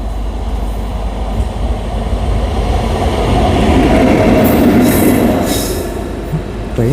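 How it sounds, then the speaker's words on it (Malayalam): A lone train locomotive running without wagons rolls past slowly at a level crossing, a loud close rumble that swells in the middle with faint wheel squeal, and no talk. "ട്രെയിൻ ഇല്ല കേട്ടോ, എഞ്ചിൻ മാത്രമേ ഉള്ളൂ."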